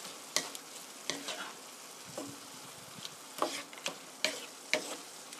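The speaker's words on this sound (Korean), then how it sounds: "버섯이 있으니까 4큰술 넣어주시고요. 고루 볶아주세요." Pork and mushrooms stir-frying in a pan, with a steady background sizzle broken by repeated sharp scrapes and clacks of a utensil tossing the food at an irregular rhythm, close and clear, with no talking.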